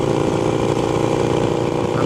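A Harley-Davidson Sportster Iron 883 fitted with a stage 1 exhaust rumbles close up with a steady, loud, throbbing engine note and no voices.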